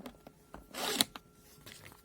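The guillotine cutter of a CASO VRH 790 vacuum sealer slices through a sealed plastic vacuum bag: one quick, close rasping swipe amid faint light handling noises, with no talk.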